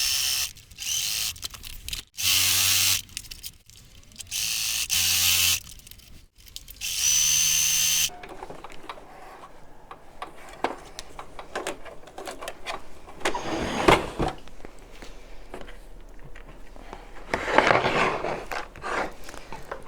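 A sewing machine stitches a quarter inch from diagonal lines on a Bear Paw quilt block, with several loud, bursty stretches of whirring separated by short pauses, then quieter rattling and handling sounds.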